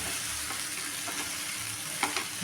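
Ground peanut and garlic masala sautéing in a pan gives a steady, close sizzle, broken by a few soft stirring knocks and scrapes near the end.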